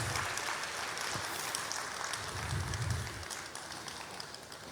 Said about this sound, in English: can we give a round of applause to Dr. Allen Onyema?